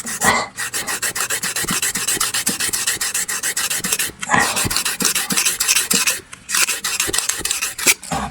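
A spacer being filed smooth by hand, close and loud rhythmic rasping strokes in quick repeated runs, broken by two short pauses.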